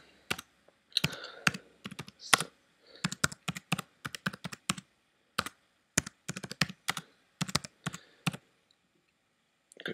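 Keywords typed on a computer keyboard: quick irregular bursts of close, crisp key clicks with short pauses between words, alone in a quiet room.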